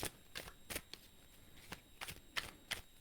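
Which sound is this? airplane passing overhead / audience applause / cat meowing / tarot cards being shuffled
tarot cards being shuffled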